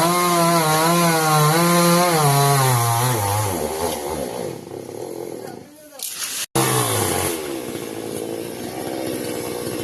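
A chainsaw cuts into coconut tree wood, its loud engine note rising and falling as the blade bites, briefly cutting out and then roaring back, while voices call out nearby.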